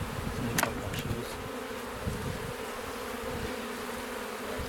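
Honeybees buzzing at an opened hive during a beekeeping lesson, a dense continuous drone close by with a few sharper passes of single bees.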